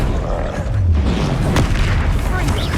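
A Bombarda spell explosion in Hogwarts Legacy, played on PS5 Pro, lands as a deep rumbling boom that sits in a dense, continuous bed of game combat noise.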